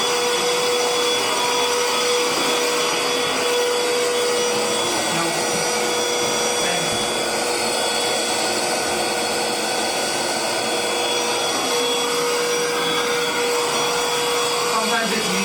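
A vacuum cleaner runs continuously and loudly with a constant high whine and an airy roar that holds steady throughout, with no breaks or changes in pitch.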